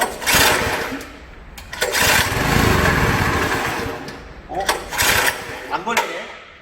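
A small sprayer engine is pull-started several times, sputtering and revving in short bursts, close and loud, with some rattling between attempts.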